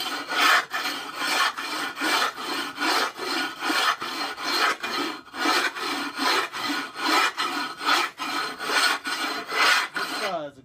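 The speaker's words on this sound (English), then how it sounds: "Basically, I just start scrubbing." Steady back-and-forth scrubbing of a dirty kiln shelf, a harsh rasping rub repeating in even strokes about twice a second, close and loud throughout with no talk.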